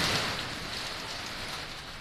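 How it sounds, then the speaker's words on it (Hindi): Steady rain falls in the Kashmir mountains under dark clouds, a dense continuous hiss with no let-up, moderately loud and close, with no voices. "वफे वफे से बारिश हो रही है जिससे खुनकी हो गई है"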